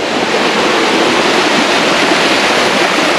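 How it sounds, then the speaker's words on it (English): Waterfall at Crowley's Ridge State Park, heard as a loud, steady, broadband rush of falling water filling the whole stretch with no voices over it. "Here's the waterfall going down."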